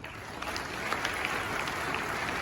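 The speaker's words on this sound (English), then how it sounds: "So can we clap for India once again?" Audience at a school annual day event claps together in a steady, dense round of applause, moderately loud and even, with faint crowd murmur underneath.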